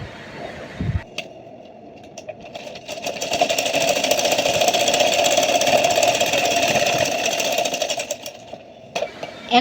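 A sewing machine runs steadily for about seven seconds, stitching a double-folded binding strip onto a baby frock, with brief handling sounds before and after the run.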